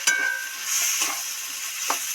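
Onions and spices frying in a pan, a continuous close sizzle broken by a few sharp spatula scrapes and stirring knocks, no voices.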